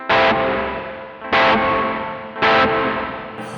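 An electric guitar through a Caline CP80 Ragnarok delay and reverb pedal with distortion strikes three loud gritty, trebly chords, each ringing out into a long reverb-and-delay tail before the next.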